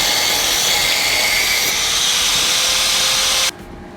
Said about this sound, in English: which Ben's going to be a champ and grind off for us